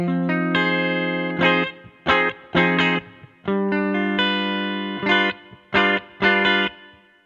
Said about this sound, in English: let's take a listen to the guitar track without any EQ